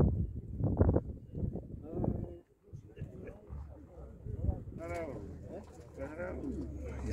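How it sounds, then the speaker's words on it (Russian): Pigeons coo repeatedly at close range at a market in Svetlograd, low soft burbling calls mixed with other bird sounds and some background noise. "Вот, ребята, кого вас заинтересовали такие голуби"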